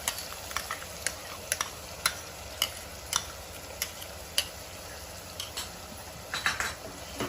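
Green chili and tomato paste fry in a pan over a medium flame, a steady close sizzle broken by regular light clicks of a spoon stirring.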